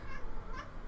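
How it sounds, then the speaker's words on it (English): A pet cat gives a faint pair of short meows somewhere in the room, soft and slightly distant over a low steady background hum, with no voice over them. "That was my cat, sorry."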